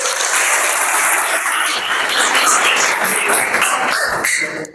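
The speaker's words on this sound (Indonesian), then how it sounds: "Tepuk tangan." Classroom applause from a group of students, a dense, steady patter of many hands clapping together for nearly five seconds before it stops abruptly at the end.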